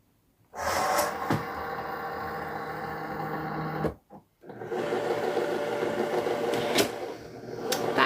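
A Cricut cutting machine draws in a mat and runs its load and calibration cycle with a steady mechanical whir. There is a short pause partway through, then the motor noise resumes with a few sharper clicks.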